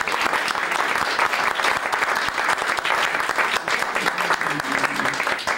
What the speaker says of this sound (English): an applause for yourself for being here